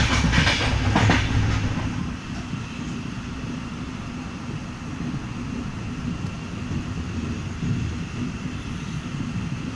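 A train rolls steadily along the tracks, its low rumble and rattling wheels continuous, with a brief louder burst of noise at the start.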